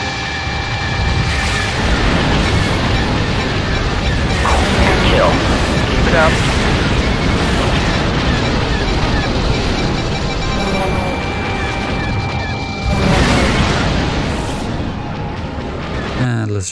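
Missile explosions in the TIE Fighter space combat game, several loud booming blasts and crackling bursts over a dense, continuous roar of battle, with a voice talking throughout.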